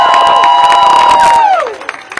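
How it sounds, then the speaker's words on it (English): Crowd outside a courthouse claps and cheers, loud and dense, with a steady pitched tone that slides downward near the end before the noise thins into scattered claps. "let's give another amazing round of applause to Cecilia Wong, the National Legal Director"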